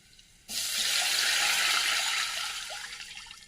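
Water pours steadily into a pot of tempered cumin, curry leaves and asafoetida for pesara pongali, a loud close rushing stream that starts abruptly and then eases slightly, with no talking.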